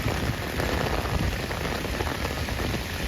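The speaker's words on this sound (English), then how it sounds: "this is some crazy downpours right now" Heavy afternoon downpour in New York City during flash flooding, a dense, continuous roar of rain pounding surfaces, loud and steady throughout with no voices.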